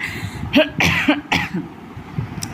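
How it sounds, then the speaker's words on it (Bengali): A woman suffering a bad cough in a hot kitchen coughs four or five times in short, harsh bursts, close to the microphone, with no talk. "কাশি হয়েছে প্রচণ্ড জানো তো"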